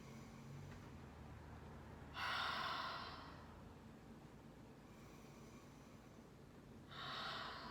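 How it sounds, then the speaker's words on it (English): Two slow, deep breaths, each a soft airy rush lasting about a second, heard close and quiet against a faint background hum, with no talking. "And take 3 deep breaths"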